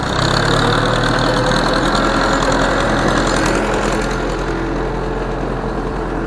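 An Ursus C 360 or C 325 tractor drives while spreading lime on a field, its engine giving a loud, steady, knocking drone that holds throughout with no pauses.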